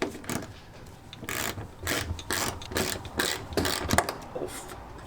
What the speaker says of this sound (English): So screwdriver or a ratchet, just to take this one out.